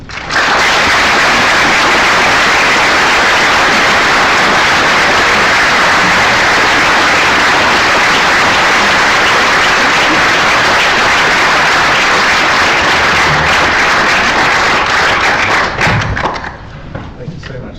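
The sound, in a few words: audience applause welcoming a lecturer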